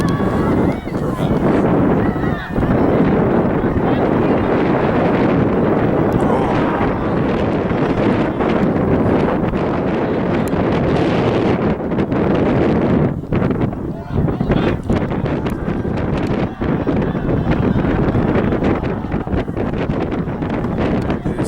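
Blustery wind sweeps across an open outdoor spot, a loud, steady roar buffeting the microphone for the whole stretch, with faint voices buried beneath the gusts.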